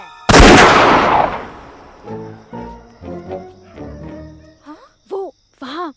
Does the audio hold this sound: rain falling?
no